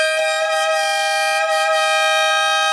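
A loud, sustained triple-tone air horn installed on a Fiat Toro blares continuously without a break, steady and close.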